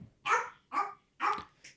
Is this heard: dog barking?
yes